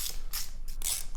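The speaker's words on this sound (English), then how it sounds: "Right now, I'm fixing the torque arm to the frame." An e-bike conversion torque arm is fixed to a bicycle frame with short ratcheting clicks, a few quick bursts of metallic turning heard up close.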